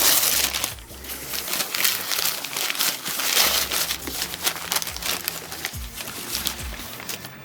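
Thin packing paper and foil crinkle and crumple as a trumpet is unwrapped, close and busy, with irregular crackling bursts and rustles continuing throughout, no voices.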